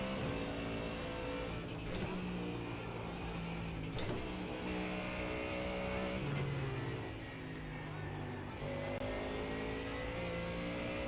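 Rallycross cars in a racing video game rev and shift through gears, engine notes rising and dropping repeatedly, loud and continuous, with someone talking over them.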